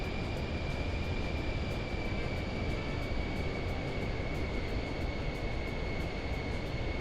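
A PC-24 business jet in Microsoft Flight Simulator 2024 on approach to Aspen, heard as a constant dense cabin roar with a thin high whine running steadily throughout.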